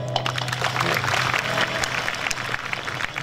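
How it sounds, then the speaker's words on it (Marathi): A crowd at a kirtan storytelling event claps for a maharaj, a loud, sustained wash of many hands clapping together, with a low hum underneath throughout. "सकट महाराजांसाठी टाळ्या वाजवा"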